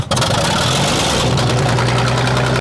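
Piston engine with choked carburetors catching and settling into a steady, loud idle, with a knocking, uneven rumble that runs continuously after a brief start.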